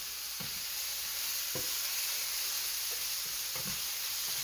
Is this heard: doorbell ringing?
no